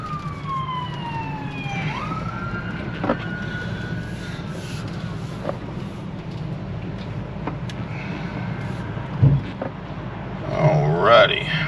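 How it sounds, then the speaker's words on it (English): A wailing ambulance siren sweeps past in road traffic, heard from inside a moving 2016 Coachmen Leprechaun 260RS Class C motorhome, loud and steady over engine and road rumble, with brief talk. "got an ambulance coming"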